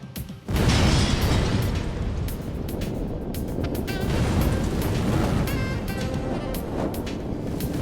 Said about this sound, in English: a limousine chauffeur is startled by an explosion.